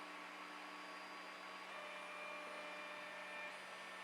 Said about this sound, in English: When we get down to temp, then the printer starts a sweeping process.